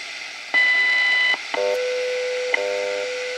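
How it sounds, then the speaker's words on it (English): Shortwave radio time signal station from Colorado received on the 10 MHz band: steady hiss with sharp beeps and two longer tones, loud and alone, with no one talking. "That's a shortwave band, 10 megahertz. That's the universal time clock out in Colorado."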